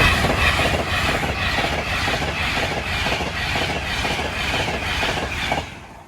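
Class 390 electric train 390 135 City of Lancaster passing at a level crossing near Wedgwood, a loud close rushing roar with rhythmic wheel clatter that fades slightly at the end.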